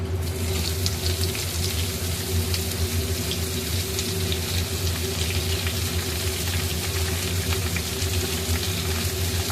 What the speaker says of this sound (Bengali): এরপরে দিয়ে দেবো কুচানো পেঁয়াজ।